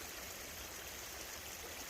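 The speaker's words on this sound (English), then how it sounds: "listening to this water stream is very relaxing for me." A natural water stream flowing outdoors, a steady broadband rush with no breaks, quiet and evenly sustained, with no voices.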